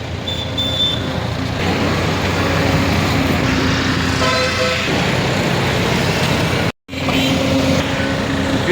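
Cars and trucks rush past steadily on a rain-soaked Vijayawada highway while crews clear washed-up mud, with a continuous loud roar of traffic and a few horn toots, briefly cut off near the end.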